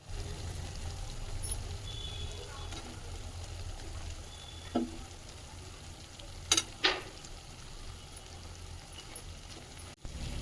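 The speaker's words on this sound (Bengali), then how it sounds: "এবার আমি আলুটা দিয়ে ভালো করে কষবো" Potatoes being fried and stirred in a spice masala while cooking a Bengali bhetki fish curry, giving a steady low sizzle with a few sharp spoon scrapes and clinks against the pan, close up with no talking.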